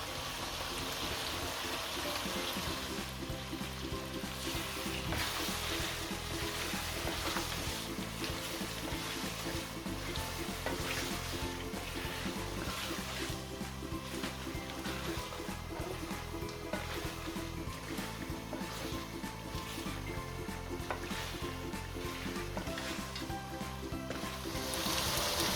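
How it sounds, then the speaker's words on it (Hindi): Mutton karahi sizzling steadily in a pan as yogurt is added, a continuous dense crackle and hiss at even loudness throughout, with no talk. "2 चम्मच मैं योगर्ट के डाल देती हूँ,"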